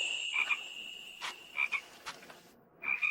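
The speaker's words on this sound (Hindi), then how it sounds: "मेंढक की आवाज लग रही है।" Frog croaking in short repeated bursts by a nearly dried-up river, with high-pitched calls in clusters separated by brief pauses, fairly close and alone without talk.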